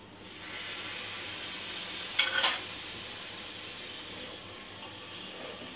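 Mutton with spices fries in a pressure cooker, making a steady hiss and sizzle, with a brief louder scrape of stirring midway.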